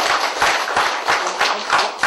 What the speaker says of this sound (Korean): 박수 한번 크게 주십시오